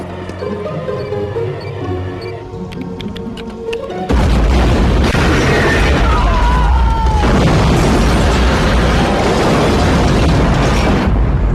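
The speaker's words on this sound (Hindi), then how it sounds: "जोरदार धमाका।" A sudden loud explosion erupts and rumbles on for several seconds, following a quieter stretch with scattered clicks and a faint voice.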